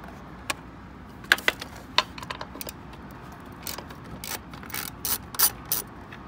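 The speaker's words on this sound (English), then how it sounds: "We've got two more 10 millimeter bolts back here. Let's get those out." A ratchet wrench backing off 10 mm nuts on a Jeep JK engine, with scattered quick clicking bursts and small metallic taps, fairly close and quiet, without speech.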